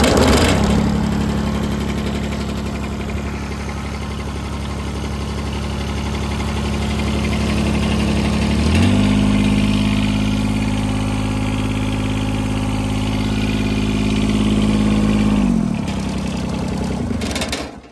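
A 1986 John Deere 330 lawn tractor fitted with a de-thatcher and a Yanmar diesel engine idles loudly and close by. Its steady throb rises in pitch around the middle and then settles back down, with no speech.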